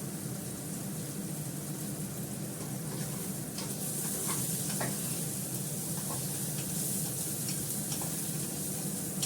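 Onions frying in a pan until reddish-brown give a steady, close sizzle with faint scraping and clicks from stirring throughout, no voices.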